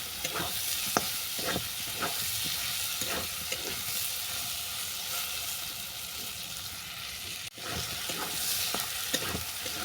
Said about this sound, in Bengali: আবার এটাকে ভালো করে কষিয়ে নিচ্ছি